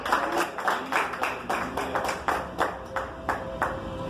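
A church congregation claps along in a steady rhythm of about a dozen evenly spaced hand-clap bursts, fairly close and full, with no voices heard over them.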